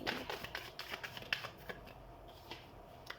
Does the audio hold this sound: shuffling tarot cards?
yes